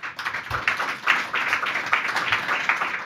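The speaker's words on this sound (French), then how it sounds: "Vous pouvez d'ailleurs vous applaudir." Applause comes from a public audience at a French round-table on training and recruitment in the building trades, with many hands clapping in uneven bursts at moderate volume.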